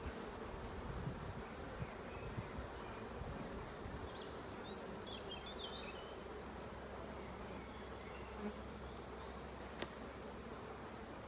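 Honeybees at an opened hive give off a dense, steady buzzing drone that fills the whole stretch at low volume, with occasional louder individual bees passing near and faint bird chirps in the background.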